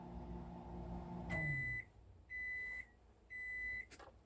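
A microwave oven in an RV signals that cooking is done with three evenly spaced high beeps. Each lasts about half a second and rings out clearly over quiet after a low hum stops.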